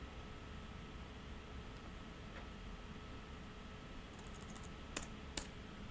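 Soft keystrokes on a computer keyboard while building a web page in Adobe Dreamweaver CC, a quiet run of light taps against a steady background hiss, with a couple of sharper clicks near the end.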